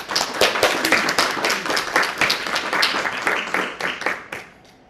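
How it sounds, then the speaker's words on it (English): A standing audience at a piano recital applauds two performers, giving dense, lively clapping with distinct sharp hand strikes. It stays steady and fairly loud for about four seconds, then fades quickly. "I'd like you to stand for an applause now, please."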